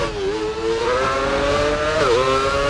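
A Formula 1 car engine in F1 Championship Edition accelerates down a straight toward 300 km/h, a loud, close high-pitched whine rising steadily in pitch, with a brief dip at a gear change before climbing again.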